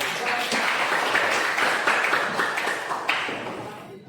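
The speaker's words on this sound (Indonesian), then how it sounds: "Baik, tepuk tangan dulu." An Indonesian school class gives a round of applause. Dense, steady group clapping fills the room at a moderate level and fades toward the end.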